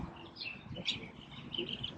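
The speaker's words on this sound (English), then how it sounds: "The birds are singing." Birds singing outdoors among palm trees in Waikiki, Hawaii, with a few faint, scattered chirps and tweets over soft background noise.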